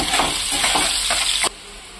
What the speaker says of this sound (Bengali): ওই তেলের মধ্যেই পেঁয়াজ দেবো। পেঁয়াজের মধ্যে অল্প নুন দিচ্ছি